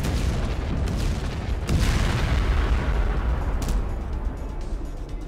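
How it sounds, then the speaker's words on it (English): Deep, rumbling booms roll one into another in a continuous heavy roar, like a series of big explosions on a ship going critical in the video game Zero Point, loud and close with no pause. "A series of explosions rock your ship as it goes critical, erupting one final blast"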